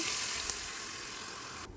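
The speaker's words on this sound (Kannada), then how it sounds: "ಇಷ್ಟು ಒಗ್ಗರಣೆ ಆದಮೇಲೆ ಕುಕ್ಕರಲ್ಲಿ ಉಳಿದಿರೋ ಅಂಥ ರಸನೂ ಕೂಡ ಸೇರಿಸ್ತಾ ಇದ್ದೀನಿ" Leftover cooker broth poured into a hot tempering of spices, producing a steady, close hissing sizzle that runs throughout and cuts off abruptly near the end.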